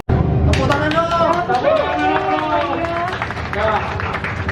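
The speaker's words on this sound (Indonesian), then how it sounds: "Tepuk tangan dong" Crowd clapping at a ribbon-cutting ceremony for a delivery company opening in Makassar, loud and close, mixed with chatter and a voice speaking over the applause.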